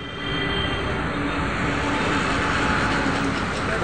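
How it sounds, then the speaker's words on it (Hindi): A metro train on the Munshi Pulia to CCS Airport line in Lucknow rolls along with a steady, broadband roar that stays loud and even throughout. "metro line"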